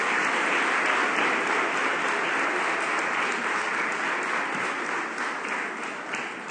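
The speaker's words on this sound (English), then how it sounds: "Round of applause," A church congregation applauds fathers on Father's Day, a dense, sustained round of clapping that stays loud and fades slightly toward the end.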